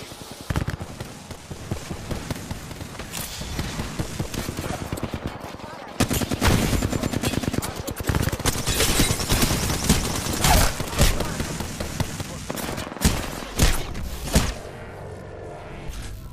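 Gunfire in the video game Apex Legends, repeated rapid bursts and single shots, loud and near, continuing throughout with brief gaps, while a player talks over the fighting.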